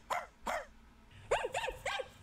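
A person imitates a dog barking, giving two short barks and then three quick bark-like yelps in a row, loud and close.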